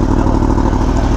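A Yamaha R1 sport motorcycle fitted with a full aftermarket exhaust system runs close and loud, its engine giving a dense, steady drone with a rough, rumbling low end.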